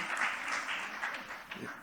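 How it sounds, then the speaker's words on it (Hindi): Brief burst of audience clapping for contestants at a children's singing competition, fairly faint and soft. "मैं चाहूँगा जोरदार तालियां सब कंटेस्टेंट्स के लिए"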